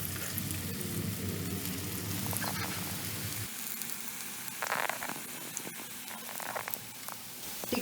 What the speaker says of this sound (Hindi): ये देखिए कितनी बढ़िया फ्राई हुई हैं सारी टिक्कियाँ